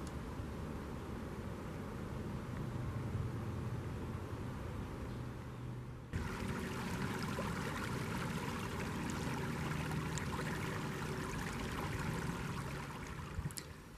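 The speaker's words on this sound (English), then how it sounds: "now I'm just going to let you enjoy the creek for a second" A creek flows steadily outdoors, a continuous rushing and trickling wash of water that fills the whole stretch with no voices.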